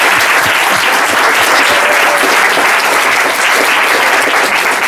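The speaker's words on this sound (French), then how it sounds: "on applaudit Jean-Paul II parce que c'est un mec génial." A crowd applauds John Paul II at a church testimony gathering, with loud, dense, sustained clapping that fills the whole stretch without a break.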